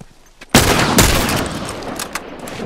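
Rifle gunfire in a headshots-only video game match, a sudden loud burst of rapid shots after a quiet start, then sustained crackling fire and scattered pops close up.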